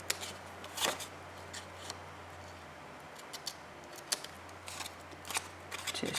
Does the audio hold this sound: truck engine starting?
no